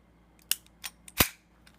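WE Tech 1911 airsoft pistol (Hitman Silverballer, no internal upgrades) firing BBs, giving several sharp, snappy cracks, the loudest a close, bright pop, with quieter clicks between and no talk.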